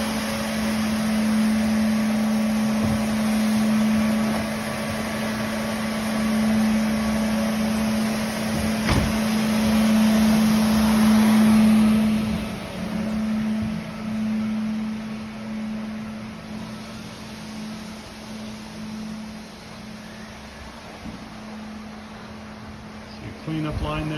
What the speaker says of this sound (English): We're using 2 scrubbers, one for the initial clean and one for a follow-up